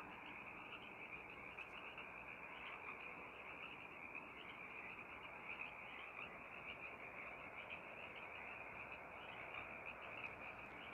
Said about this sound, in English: treated to quite the lovely chorus of Sierran tree frog calling